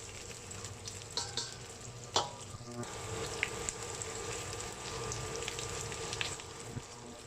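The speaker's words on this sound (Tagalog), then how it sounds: "I-brown lang po natin siya. Para lumabas yung natural sugar ng sibuyas." Onions browning in a pan for sardine fried rice, a soft, steady sizzle with occasional stirring knocks and one sharper clatter, fairly quiet and close.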